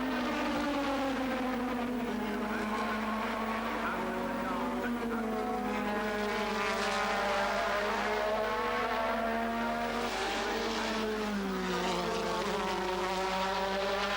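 Formula One race cars from 1986 howl past in a sustained, loud engine drone with wavering pitch, shifting as the cars race by at a Grand Prix, continuous throughout.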